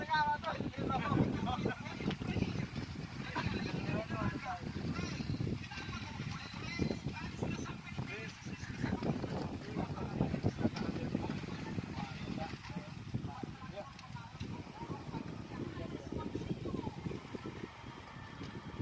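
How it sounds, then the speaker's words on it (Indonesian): A strong whirlwind roars in a steady, loud, low rumble, buffeting the microphone continuously for the whole stretch, with voices talking over it. "Waduh, ngeri anginnya nih"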